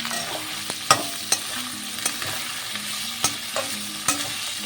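Chopped onion and capsicum fry over high flame in a pan, a steady close sizzle broken by several sharp clicks and scrapes as a utensil stirs them, with no voices.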